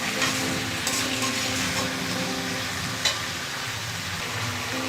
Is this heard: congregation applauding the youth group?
no